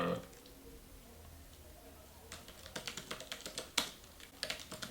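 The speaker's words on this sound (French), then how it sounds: "on se met sur Google et on tape par exemple" Someone types a search into Google on a computer keyboard, with a quiet stretch followed by a run of fast, close key clicks and a sharper tap near the end.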